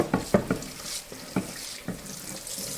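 Food is rinsed under a running sink tap in a home kitchen while garlic cooks nearby, giving a steady water hiss broken by several short splashing knocks and clatters, close and fairly loud.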